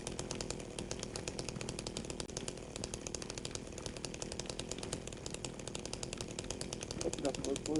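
A chainsaw revs steadily in a video game, a continuous buzzing drone that runs loud and close for several seconds under background game sounds.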